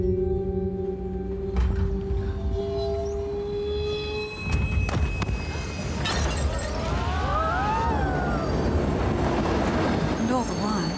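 A train ride in an advert, with steady rumbling rail noise, a clunk and screeching wheel squeals building toward the end, all fairly loud and continuous.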